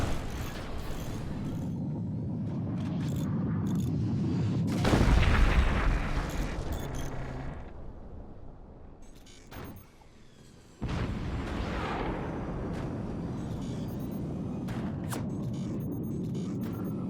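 Howitzer fire and explosions boom in the Forts RTS game, over a steady mechanical drone, with one large blast that fades into a quieter stretch and then a sharp return of heavy rumbling.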